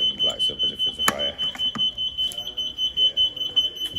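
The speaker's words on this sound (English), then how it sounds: "the panel beeps and lights up as if there's a fire" A CTEC CFP conventional fire alarm panel beeps during a device test, giving a steady high electronic tone that runs throughout, with a sharp click partway in and someone talking over it.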